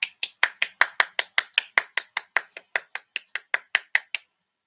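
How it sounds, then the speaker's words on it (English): A single person claps alone at a steady, brisk pace, about twenty sharp close hand claps over four seconds, with no talking. "I think I might clap for myself."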